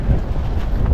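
Strong wind at sea buffets the microphone aboard a small fishing boat, a loud, steady low rumble with gusty surges and no voices.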